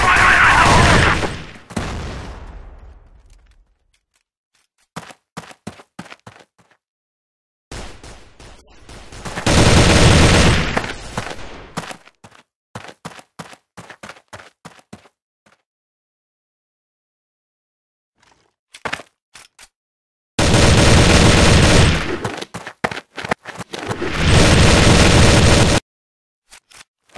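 Gunfire and a grenade blast from a video game arrive as loud, harsh bursts of shots and booms separated by stretches of near silence, with rapid volleys clustered at several points.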